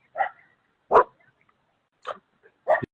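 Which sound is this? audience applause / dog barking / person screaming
dog barking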